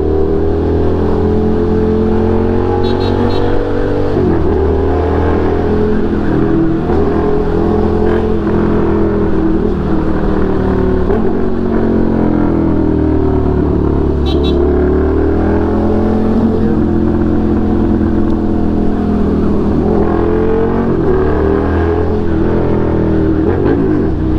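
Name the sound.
Suzuki SV650 motorcycle engine during night ride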